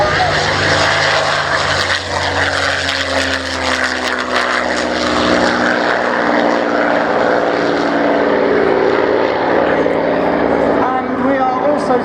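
A Spitfire Mark IX propeller fighter passes at an airshow at Dunsfold, its engine a loud sustained drone that swells and fades slightly over time, with crowd and commentary ambience beneath.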